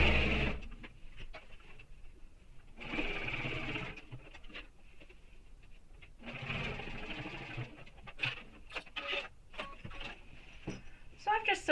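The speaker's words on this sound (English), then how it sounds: "And I'm just going to sew this bottom seam with a full seam allowance." A domestic sewing machine sews the bottom seam of a backpack in several short bursts with back-stitching, close and clear, with a voice briefly heard between runs.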